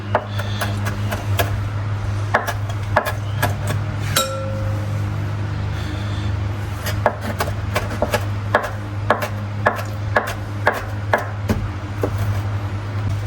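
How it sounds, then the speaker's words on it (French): Knife tapping and chopping fresh parsley leaves on a cutting board, a series of crisp, irregular wooden knocks and light clinks, close and fairly clear over a steady low hum. "je mets quelques petits coups de couteau comme ceci avant de commencer à émincer"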